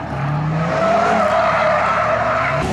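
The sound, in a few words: all-wheel-drive car skidding with tires squealing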